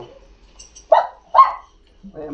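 Dogs barking, a few short sharp barks close by and fairly loud, alone with no talk over them.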